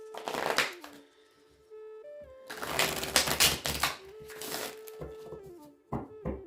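Tarot deck shuffled by hand: several bursts of crisp riffling and card slapping, loud in short runs, over a soft sustained musical tone.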